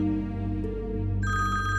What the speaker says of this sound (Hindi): तुम्हारे बाप का फोन